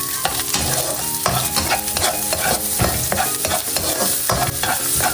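Garlic and onion sautéing in a pan for a patola dish, a loud steady sizzle with repeated scraping strokes of a spatula stirring at a close distance, and no talking.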